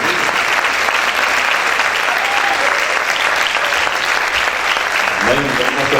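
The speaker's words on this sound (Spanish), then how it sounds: "A ver, un fuerte aplauso." Loud, sustained applause from a church congregation on Mother's Day, a dense wash of clapping filling the whole stretch with voices mixed in beneath.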